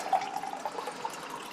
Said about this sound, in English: I'm gonna pour this into a coffee cup and heat it up